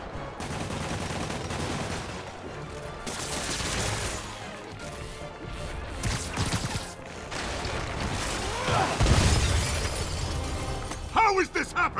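Glass shatters in the Spider-Man video game, a loud crash of breaking panes mixed into busy game action sounds, gunfire-like bursts and music, with brief rattling debris near the end.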